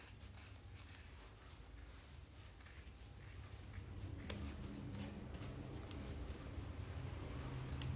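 Scissors snip through fabric while a makeup bag is being sewn, a soft continuous crisp rasp of cutting close by and fairly quiet, with no talking.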